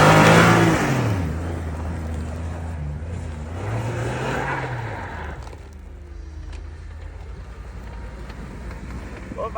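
A car engine revs hard while climbing a steep hill, its pitch rising and falling through gear changes and loudest at the start before settling into a steady strained drone.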